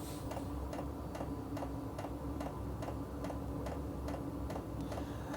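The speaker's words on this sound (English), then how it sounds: "as you can hear, it's priming the diesel, igniting, and we're going to get some heat." A Chinese diesel heater installed in a garage primes and ignites, making a steady series of soft rhythmic ticks from the fuel pump over a constant low hum and fan whir, faint and even.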